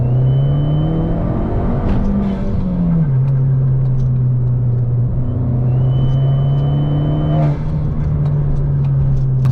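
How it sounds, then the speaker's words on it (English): An Abarth 595 Competizione fitted with a Forge induction kit is revved hard, its engine droning loudly with a high-pitched wailing whine that rises and falls with the revs, close and continuous. "you get a high-pitched wailing sound like this"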